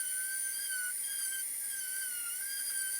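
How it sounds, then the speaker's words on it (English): A handheld orbital sander runs steadily on wood, taking it down to 220 grit; a constant high motor whine holds at an even level throughout. "I sand everything down to a 220 grit using just my orbital sander."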